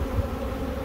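Honeybees buzz in a dense, steady drone as a beehive frame is shaken outdoors, loud and close with no voices.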